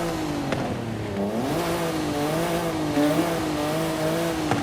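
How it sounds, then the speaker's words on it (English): A 2023 Nissan Z's engine revs in the Forza video game, a loud continuous buzzy drone that rises and falls in pitch as the throttle changes. "Let's actually see how this thing sounds now."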